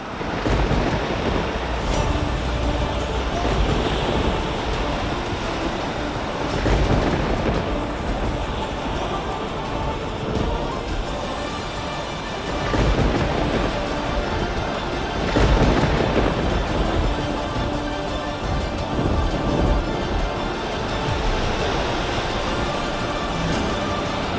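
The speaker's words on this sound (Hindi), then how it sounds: "बहुत ही भयंकर तूफान आ रहा है।" A violent storm at sea, heard around a boat: a steady roar of wind and crashing waves with heavy surges, including deeper rumbles near 2, 7, 13 and 15 seconds that could be thunder. It stays loud throughout with no speech.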